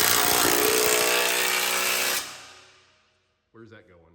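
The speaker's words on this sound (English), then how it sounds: "putting in that last bolt." Power tool driving the last bolt on a Peterbilt 389 truck, a loud steady whirring buzz for about two seconds that winds down to silence, followed by a brief voice.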